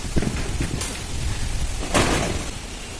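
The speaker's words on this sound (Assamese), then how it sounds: "বতাহজাক এইটো চাইডৰ পৰা আহিছে" Steady rain with gusting storm wind noise in Sivasagar, a broad rushing wash that swells sharply near the two-second mark, with no voices.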